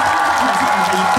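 Crowd applause at an outdoor market concert in Daegu, a brief burst of clapping and cheering under a busy, noisy backdrop.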